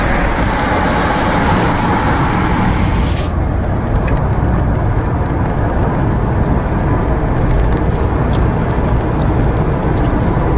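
A 2002 Jaguar XJ8 with a 3.2 V8 petrol engine drives along with a loud, steady low engine and road rumble from inside the cabin, broad wind and tyre noise continuing throughout.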